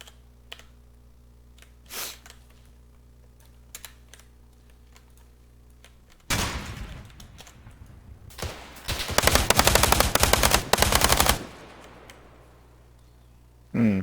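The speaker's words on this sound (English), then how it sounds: "It's good to get a little simulated firefight going for you guys." Simulated gunfire in the video game ArmA 3 with a sound mod: scattered single shots, then loud bursts and a long sustained automatic volley, with a final shot at the end.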